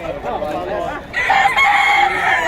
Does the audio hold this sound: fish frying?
no